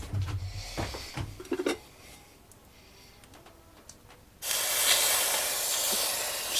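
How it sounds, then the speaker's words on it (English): A hot ring plunged into pickle solution gives a sudden loud, steady hiss that starts abruptly and holds, after some faint clatter and handling noise. "We're going to drop it straight into the pickle."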